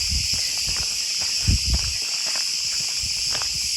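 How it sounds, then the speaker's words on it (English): Cicadas drone in a dense, continuous high-pitched buzz on Crete, steady and loud throughout, with faint footsteps and rustling moving beneath it in the foreground. "Listen to all the cicadas."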